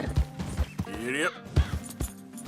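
Horse in Red Dead Redemption 2 clip-clopping with thudding hooves and a short whinny in the middle, close and fairly loud, while a voice talks over it.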